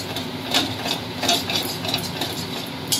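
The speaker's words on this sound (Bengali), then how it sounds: "এটা অনর্গল কিন্তু নেড়ে যেতে হবে কড়াইতে।" A spatula stirs kharkol leaf paste as it fries in a wok, making scraping, rhythmic strokes with a few sharper knocks against the metal over a steady low sizzle.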